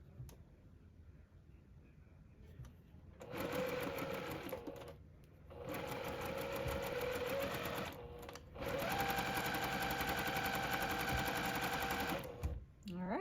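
A sewing machine stitches a zinnia quilt block in several loud, steady runs of rapid motor whir and needle clatter, separated by short pauses.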